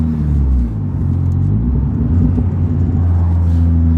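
A 406 bhp Vauxhall Corsa VXR engine idling close up with a deep, steady rumble, given light throttle blips that raise the pitch slightly before settling back to a smooth idle.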